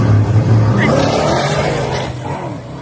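Full-weight street drag car held on a 2-step rev limiter with the foot brake, then launching soft, gives a loud, close, steady engine roar with a rough low rumble that eases slightly toward the end.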